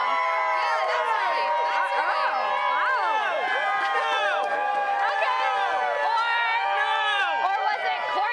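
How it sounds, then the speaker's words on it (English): An excited crowd at a sports event cheers to pick a face-off champion, many high voices shrieking and yelling together in a loud, sustained roar. "So cheer the loudest for who you think won."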